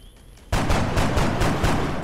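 In the turn-based strategy game XCOM Long War, a burst of reaction gunfire breaks a quiet lull half a second in. Several loud, rhythmic shots follow in quick succession, close and heavy, with no talk over them.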